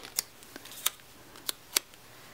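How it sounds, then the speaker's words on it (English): Scissors snipping through a sheet of paper checkbox stickers, heard as four crisp, close clicks spaced unevenly over a couple of seconds in a quiet room. "I'm gonna have to cut it in three, or cut it not really in half, but just cut off the bottom two"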